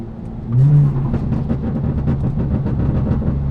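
A loud straight-piped BMW 335i engine drones steadily on the freeway with crackling, popping exhaust burbles on downshift throughout, a brief rising tone near the start, all up close from inside the car with no talking.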